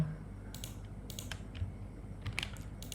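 Computer keyboard keys tapped in short, irregular clicks and bursts, a few heavier strokes among lighter ones, close and fairly quiet against a low steady hum, with no talking.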